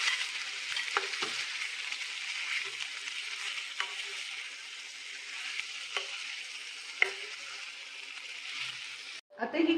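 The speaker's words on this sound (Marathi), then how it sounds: "आता ही कोलंबी आपण परतत आहोत." Prawns marinated in turmeric and salt are stir-fried in a pan. A continuous close sizzle is broken by periodic stirring scrapes and ends with a short clatter.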